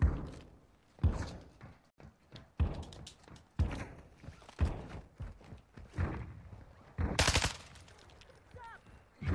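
Sniper and other gunshots ring out in an online PvP shooter game, sharp loud cracks recurring every second or so across the span, with some thuds and footsteps between them.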